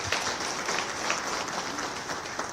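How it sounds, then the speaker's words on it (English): A conference audience applauds a minister at an event on substandard and falsified medical products, steady dense clapping throughout, fairly close and even. "let's give a minister once again a round of applause"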